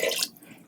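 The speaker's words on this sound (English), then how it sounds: "So I'm going to add about 3 cups of water here." Water pours into a soup pot for broth, a brief, splashy rush that fades quickly into a low trickle, close and alone.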